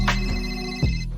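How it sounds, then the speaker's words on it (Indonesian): A telephone rings in an indoor dramatic scene, a steady electronic ringtone with sustained tonal notes and a brief low thump partway through, fairly loud and with no voices. "Ada telepon untukmu."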